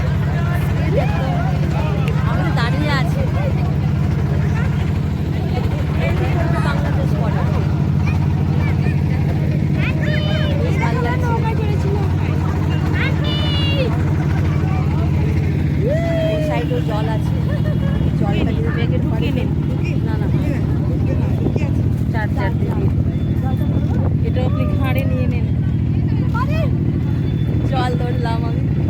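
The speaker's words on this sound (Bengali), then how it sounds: "আমরা নৌকায় চড়ে বসে আছি" A crowded motorboat on the Padma river near the Bangladesh border runs with a steady low engine drone throughout, while passengers talk and chatter over it.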